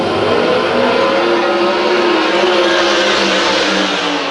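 Sprint cars at Lakeside's Rumble on the River World of Outlaws main event roar into turn 1 in a pack, a loud, continuous engine drone with no gaps or let-up.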